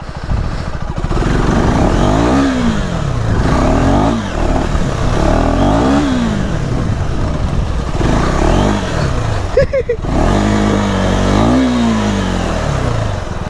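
A KTM Adventure 390 motorcycle revs hard while riding off-road in mud, its engine rising and falling in repeated loud surges up close, with clattering and rough riding noise throughout.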